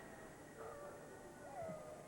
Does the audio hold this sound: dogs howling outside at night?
yes